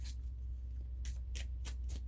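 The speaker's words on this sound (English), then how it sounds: "So shuffling the deck, we're putting our energy into her." A tarot card deck is shuffled in several soft, papery riffling bursts, quiet and close over a low steady hum, with no talking.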